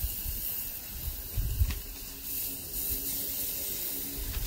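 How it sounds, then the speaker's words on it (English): Steady, bright sizzling hiss of skirt steak searing on a hot wood-fire grill, close and continuous, with occasional soft pops and low thumps. "Nothing like that beautiful sizzle."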